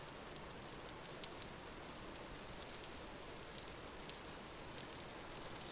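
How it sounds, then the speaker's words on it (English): Steady rain falls in the survival game Vintage Story, a soft, continuous hiss with scattered light drop ticks, faint and even throughout with no voices. "Still raining here."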